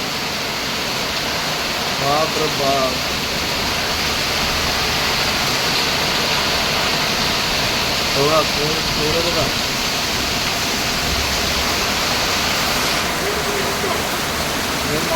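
A torrential morning downpour roars as a dense, unbroken wash of rain noise, loud and constant, while a man exclaims briefly a few times over it.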